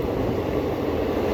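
A train rolling along the track, heard from inside the carriage as a steady, continuous low rumble with no talking.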